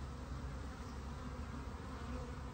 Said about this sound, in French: pour pas embêter les abeilles, je vais les pousser à l'intérieur